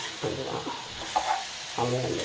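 Hot oil sizzles and crackles close by while tempering spices are stirred in for a coconut-milk chicken curry, with speech running over it in short phrases.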